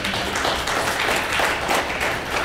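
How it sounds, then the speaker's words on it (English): A community audience gives itself a round of applause at a civic vision meeting, a thick, continuous wash of many hands clapping at once, steady and fairly loud throughout. "We should give ourselves a big round of applause for that"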